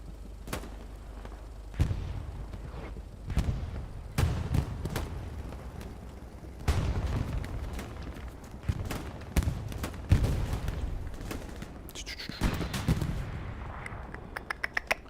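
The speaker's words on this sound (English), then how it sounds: "I think it's an AT gun coming in from Monal." An anti-tank gun fires in the World War II video game Hell Let Loose, on the Carentan map during a competitive match. Loud, heavy booms land every couple of seconds, each with a rumbling tail, amid scattered distant battlefield cracks.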